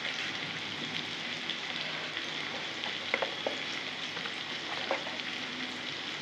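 Onions frying in a pan with salt and turmeric give a soft, steady sizzle with a few faint clicks and stirring taps, quiet and without speech.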